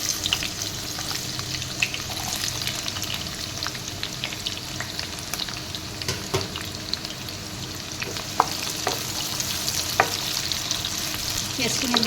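Onions frying in hot oil in a wok, a continuous close sizzle with scraping stirs and occasional spoon clicks against the metal, no talking.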